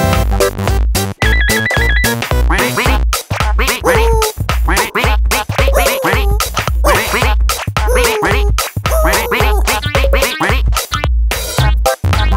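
A cartoon duck from Pocoyo quacks repeatedly over busy, bright children's music with a ringing, phone-like melody.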